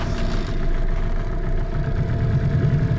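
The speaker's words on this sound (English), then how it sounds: "I'm testing the outboard." A boat's outboard motor running steadily nearby, a continuous low chugging engine drone with mechanical clatter and no talking.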